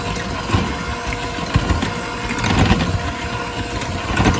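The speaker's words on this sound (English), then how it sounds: "I'm going to blend this first before I add anything else." A kitchen blender churns sugar, egg and milk for mandazi dough, a loud continuous grinding whir with fluctuating motor tone, steady throughout and without speech.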